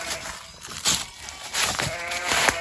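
Several short sheep bleats from a flock outdoors on a hillside, a few sharp calls spaced across the moment over a steady background of wind and ambient noise.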